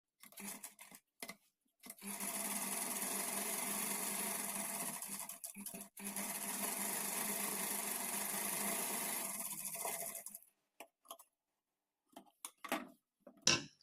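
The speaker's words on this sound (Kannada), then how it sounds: "ಈಗ ಇದನ್ನು ಈ ಥರ ತಿರುಗಿಸ್ಕೊಂಡು ಈ ಕಡೆ ಎಡ್ಜ್ಗೆ ಸ್ಟಿಚ್ ಮಾಡ್ಕೊಳ್ತಾ ಬರಬೇಕು" A sewing machine runs in two long steady bursts, stitching along the edge of a blouse back neck, with short stops and faint handling noises around and after.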